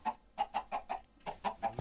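A chicken in the Minecraft video game clucking in a quick run of short, evenly spaced clucks, about eight in all, with a brief pause midway, clean and fairly quiet.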